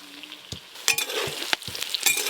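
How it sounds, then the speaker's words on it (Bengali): Pointed gourd frying in a pan, heard as a soft continuous sizzle broken by several sharp clatters and scrapes of stirring against the pan, close and moderately loud, with no talk. "চাপা খুলে একবার দেখবো কতদূর কি ভাজা হলো।"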